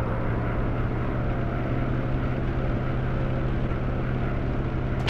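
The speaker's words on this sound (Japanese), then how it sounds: "爆撃機発見。" Bomber aircraft engines in the World War II dogfight game Warplanes WW2 Dogfight, a steady, loud propeller drone with a constant low hum throughout, heard alone without talk.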